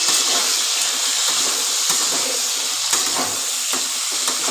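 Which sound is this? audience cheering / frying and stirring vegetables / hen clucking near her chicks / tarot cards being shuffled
frying and stirring vegetables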